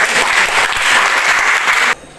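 Group applause in a classroom teaching session, dense and steady, then stopping abruptly after about two seconds.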